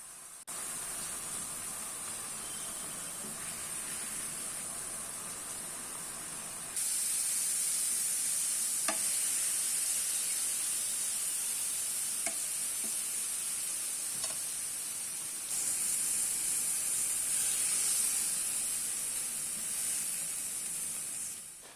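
Beef steak slices frying in a pan give a loud, steady hissing sizzle that lasts throughout, swelling in intensity twice, with a few faint clicks and no talking.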